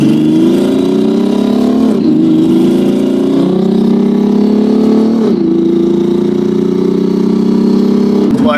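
Ferrari F12 with a twin-turbo conversion revs loudly and steadily close by, its engine note rising and falling in sustained sweeps with brief dips, holding a strong drone throughout the run.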